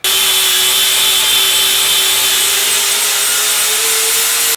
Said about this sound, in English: you need to get a flapper or a hard grinder, your choice, and you got to shape it out